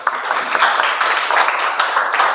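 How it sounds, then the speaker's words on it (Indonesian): Classroom applause for a student discussion group, a dense, steady patter of many hands clapping close by for a couple of seconds. "tepuk tangan untuk kelompok 1"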